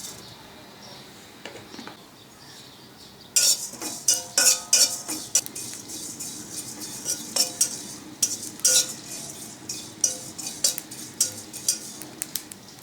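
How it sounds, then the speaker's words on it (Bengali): Cumin seeds dry roasting in a dry kadai on a stove, stirred with a spatula, as prep for a light tengra fish curry: quiet at first, then steady repeated metallic scrapes and clinks close by, with no talking. "আমি শুকনো কড়াইতে একটু জিরে ভেজে নেব"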